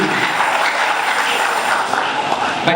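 Congregational clapping at a church's 20th-anniversary thanksgiving service, a steady dense wash of many hands, loud and continuous, with a voice faintly under it.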